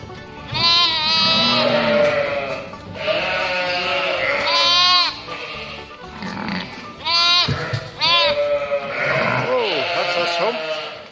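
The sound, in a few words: sheep and lambs bleating in a pen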